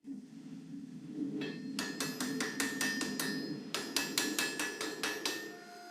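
A hand hammer strikes a forge weld on a Damascus steel billet in a series of bright ringing metallic blows, two quick rhythmic runs of evenly spaced hits over a low roaring forge hum.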